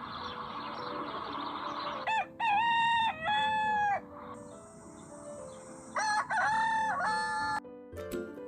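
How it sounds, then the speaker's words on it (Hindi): A rooster crows loudly and close by, giving two full cock-a-doodle-doo calls with clucking between them over a soft background, and no one speaks. "ये है मुर्गा, जिसे हम इंग्लिश में बोलते हैं रोस्टर।"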